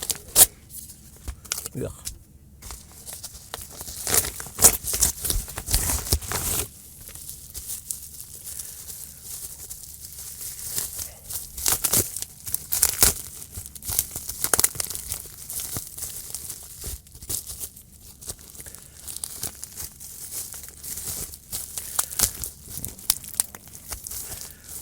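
A bright yellow padded envelope packed with bubble wrap gets torn open, with rustling, crinkling and ripping heard close and fairly loud for about twenty-five seconds while someone talks over it.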